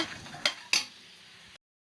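A spoon clinks twice against a metal pan while stirring salt into jackfruit seed masala, with a soft scraping stir between the knocks, close and fairly quiet.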